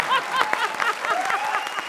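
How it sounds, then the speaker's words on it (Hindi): Pre-recorded applause plays back as a comedy gag on a stage show, a short burst of crowd clapping mixed with light chuckles and voices, moderately loud and brief. "ये है तालियों का ऑडियो।"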